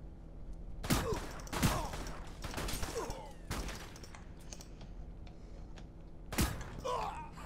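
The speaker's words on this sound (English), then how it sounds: "I'm being shot at" Gunfire in the battle royale game Radical Heights cracks out in a handful of sharp, separated shots and short bursts, some near and loud, others fainter, with keyboard clicks and quiet background between them.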